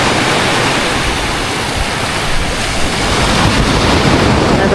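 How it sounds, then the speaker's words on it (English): Waves rolling onto Nacpan Beach in El Nido, Philippines, a constant loud wash of surf mixed with wind buffeting the microphone, with no pauses and no talking. "we're at another beach. This one is called Nacpan Beach"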